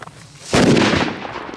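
Firecrackers, small bangers packed in a box, go off in a single sharp loud blast at close range, followed by a rough crackling decay that fades over about a second.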